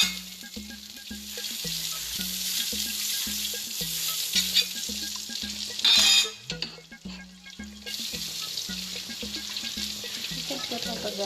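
Butter frying in a pan while cooking carbonara: a continuous sizzle close by, with a regular low pulsing underneath, a brief louder burst midway and occasional light clinks of a utensil.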